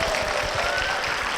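A church congregation applauding as a member is welcomed forward, a steady wash of many hands clapping at moderate volume throughout.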